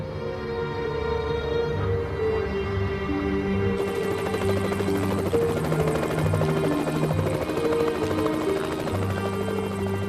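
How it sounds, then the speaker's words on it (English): A news helicopter flying overhead on its way to a motorway traffic jam, its rotor and engine throbbing in a steady, loud drone throughout with no speech. "The BBC's helicopter was soon on its way to the scene with Anna Rajan, 5 Live's traffic reporter."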